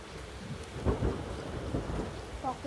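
Thunder rumbles during a heavy rainstorm, a low muffled roll swelling briefly over a steady hiss of pouring rain, heard from indoors with no voices.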